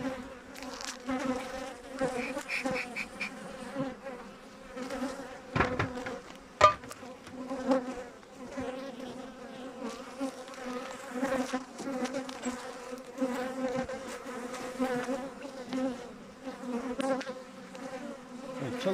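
Honey bees buzzing around an open hive during a beekeeping check, a continuous fluctuating hum close by, broken by a few knocks from handling the frames.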